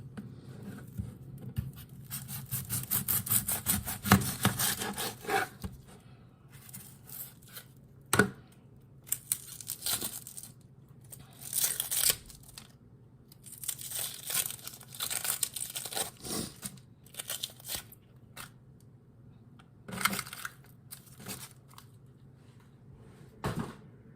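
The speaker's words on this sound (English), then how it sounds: "So we're going to get this onion cut on down, and then we're going to put this inside of our lasagna." Knife slicing an onion thinly on a cutting board for lasagna, giving soft crunchy cuts and crisp taps in bursts with short pauses, close and fairly quiet, with no talking.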